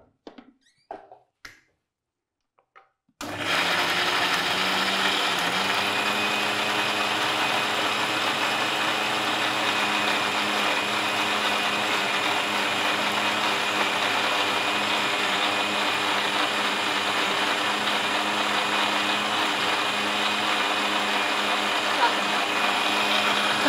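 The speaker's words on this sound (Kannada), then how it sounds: "ಇದನ್ನು ನಾನು ಮಿಕ್ಸಿ ಮಾಡ್ಕೊಡ್ತೀನಿ" A kitchen mixer grinder blending a paste, starting abruptly after a few quiet knocks and then running as a steady, loud, unbroken whir for about twenty seconds.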